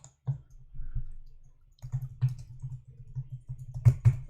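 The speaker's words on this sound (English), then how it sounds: "Move that keyboard so it's not rattling all over the place." Clicky typing on a loose computer keyboard that rattles on the desk, a run of uneven, fairly close key taps with a few sharper hits near the end; no one speaks.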